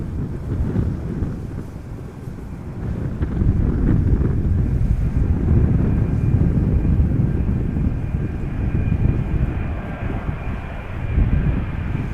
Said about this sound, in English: This airplane is on the way now for almost 11 hours, 10 hours and 55 minutes.